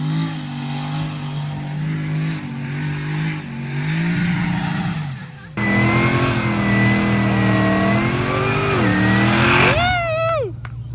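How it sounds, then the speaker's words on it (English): A car does a burnout at a birthday burnout contest, the engine holding high sustained revs that dip, cut out briefly, then roar back louder before winding up and falling off sharply. "of course, ends in a burnout contest"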